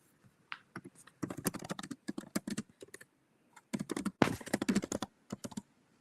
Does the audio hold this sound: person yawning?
no